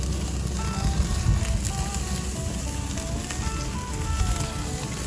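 New York strip steaks sizzle over open flames on a Kamado Joe ceramic grill, a steady dense hiss and crackle running continuously at close range with no talking.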